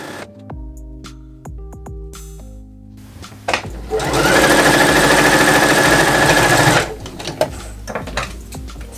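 A sewing machine runs steadily for about three seconds, stitching a double-folded hem on woven fabric for a no-pattern top. Brief handling clicks come before and after the run.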